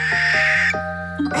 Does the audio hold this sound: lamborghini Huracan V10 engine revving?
no